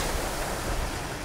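Waves rolling onto a Lake Michigan beach strewn with dead alewives, a continuous, fairly loud wash of surf with wind, steady and without speech.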